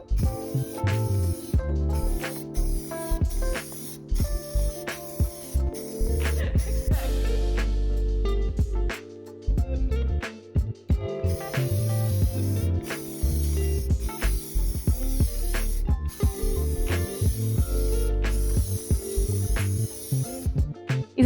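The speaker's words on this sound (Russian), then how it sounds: "Я взяла черную краску в баллончике и покрыла всю картину в 2 слоя" Black spray paint hissing from an aerosol can onto a canvas in long, steady bursts with brief pauses between passes, close and loud, laid over a backing music track.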